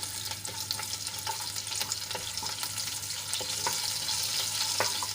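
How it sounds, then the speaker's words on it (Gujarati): Cumin, sesame, chili flakes and chopped green chili sauté in hot oil with a steady, even sizzle and crackle, close and moderately loud, with light stirring scrapes and no talking. "એક કાપેલું ઝીણું મરચું એડ કરીશું અને થોડીવાર માટે આપણે એને સાંતળી લઈશું"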